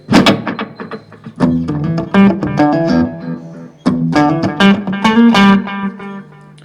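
Electric guitar notes played through a practice amp's delay effect, each phrase trailing off in repeating echoes, two short runs separated by a brief pause.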